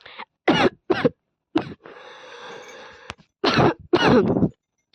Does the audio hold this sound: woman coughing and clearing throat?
yes